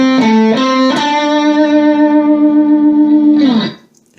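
Electric guitar playing a lick with effects: a few quick distorted notes, then one long sustained bent note that rings for seconds with slight modulation, before a short final flourish and silence.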